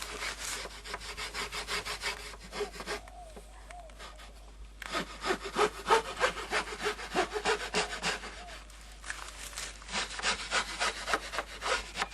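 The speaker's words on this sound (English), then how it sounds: "Clean it up with a rasp or a file." A rasp or file worked by hand to clean up a square hole cut in wood, with rapid rhythmic scraping strokes in bursts and short pauses between them, close and fairly loud.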